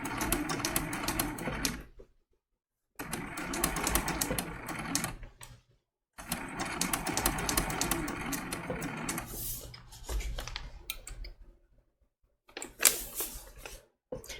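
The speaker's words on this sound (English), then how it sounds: "I want to bring you along sewing the entire shape" A sewing machine stitches around the outline of a snowman trivet in repeated bursts of rapid mechanical whirring, stopping and starting with short silent pauses, close and moderately loud with no talking.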